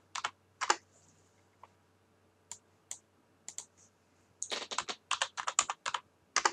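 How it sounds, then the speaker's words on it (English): Crisp, close computer keyboard strokes as a search word is entered into a dictionary tool, starting as scattered single clicks and quickening into a steady run of typing over a quiet background. "go back to our dictionary, hit search, type in the word count"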